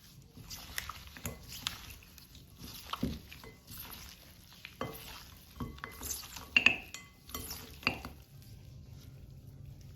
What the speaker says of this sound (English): So now we're going to mix everything together.